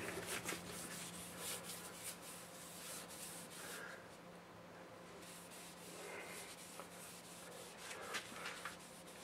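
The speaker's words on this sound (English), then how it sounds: "finish it off with wipe-on poly" Soft, repeated rubbing strokes of a cloth wiping poly finish onto a freshly sanded, turned spalted Norway maple bowl, quiet and rhythmic, with no talking.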